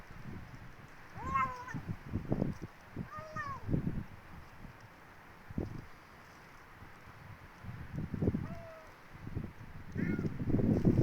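Several high, thin meows from a small cat, spaced irregularly, with rustling, wind noise and a person talking softly nearby.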